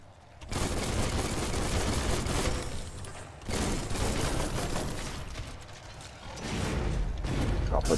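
A weapon reloads in the action game Biomutant, with bursts of clattering mechanical clicks, ratcheting and rapid gunfire-like noise in loud stretches broken by short pauses.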